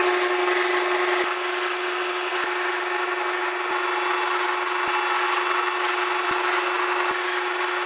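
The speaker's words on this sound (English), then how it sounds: "we'll drill all the way through this board" A router bit cutting all the way through a wooden board while making router trays, giving a steady, loud, continuous machine whine with a constant tone that holds for the whole stretch, briefly dipping a few times.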